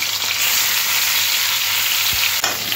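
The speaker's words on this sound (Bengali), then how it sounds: "নুন হলুদ মাখানো মাছগুলো তেলের মধ্যে দিয়ে এপিট ওপিট করে দু পিস ভেজে নিতে হবে।" Fish pieces coated in salt and turmeric fry in hot oil, a loud, close, continuous sizzle with one brief thump as a piece is turned, and no speech.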